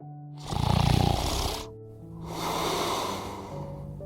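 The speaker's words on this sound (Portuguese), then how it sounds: "Nosso pequeno Bumbo também adormeceu e está roncando" Baby elephant snoring as a sound effect: two long, deep breathy snores with a rough rumbling texture and a short pause between them, close and alone.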